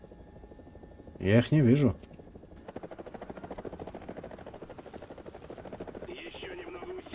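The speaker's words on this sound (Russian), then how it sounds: "Это советский вертолет по мне целится." A Soviet helicopter in the War Thunder video game makes a steady rotor drone with regular chopping pulses through most of the clip. It runs beneath a short spoken line near the start and a brief electronic tone near the end.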